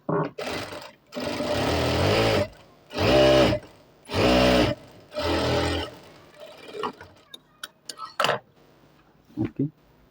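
A sewing machine stitches a shirt in several loud, whirring bursts of a few seconds each, then gives way to quieter scattered clicks and handling noises.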